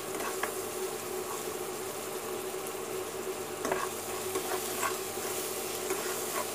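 Ground lentil paste for pakodi curry roasts in a pan, giving a continuous frying sizzle broken by occasional spatula scrapes and stirring knocks, steady and close.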